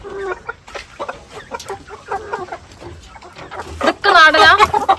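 Chickens cluck in a backyard coop holding about fifty mixed birds, native, Fayoumi and Giriraja breeds, with bursts of clucking and squawks growing louder near the end while people talk close by.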